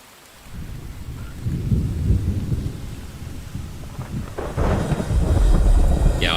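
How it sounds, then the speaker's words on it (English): Thunderstorm in the survival game The Infected: a low rolling rumble with steady rain builds over several seconds, then swells into a louder crack and heavy roar near the end, with no voices. "I do like the storms in this game. They get quite loud sometimes as well."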